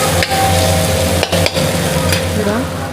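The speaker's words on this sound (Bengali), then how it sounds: "এবারে পেঁয়াজটা ভাজা হবে, লাল লাল করে ভাজবো" Onions fry in very hot oil in a home kitchen, giving a loud, continuous sizzle with occasional stirring scrapes and a steady low hum beneath.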